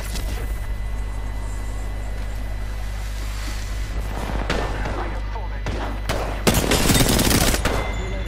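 Rapid gunfire in the Apex Legends season 7 battle royale video game, steady bursts of shots over a constant mechanical hum, with a louder, denser volley near the end.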